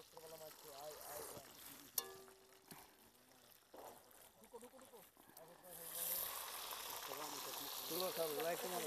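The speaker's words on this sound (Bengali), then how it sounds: "সেই ফ্রাই হচ্ছে মাংস" Meat frying outdoors at a picnic in Saudi Arabia, a soft steady sizzle that swells louder toward the end, faint and partly under people talking nearby.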